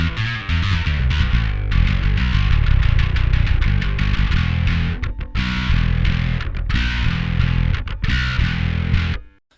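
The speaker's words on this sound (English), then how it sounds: "I like to think of the type of distortion as very chainsaw-esque" Heavily distorted electric guitar with an aggressive, buzzing chainsaw-like tone plays dense, rhythmic palm-muted riffs for several seconds, loud and alone, with choppy stops before cutting off.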